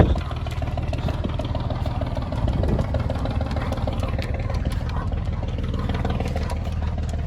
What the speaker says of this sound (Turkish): buradan bir tekne gidiyor